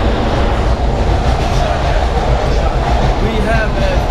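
Loud, steady rumble and rattle of a moving Metro-North commuter train from inside a carriage, with faint squeals and voices murmuring under the noise.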